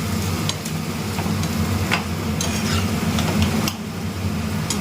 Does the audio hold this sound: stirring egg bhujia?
yes